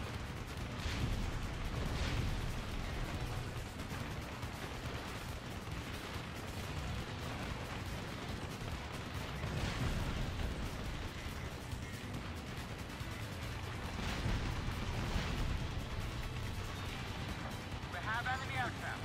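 Ground guns blown up in Ace Combat Assault Horizon, a dense, continuous rumble of heavy booms and crashes layered over constant jet roar, staying loud the whole way through with only brief swells.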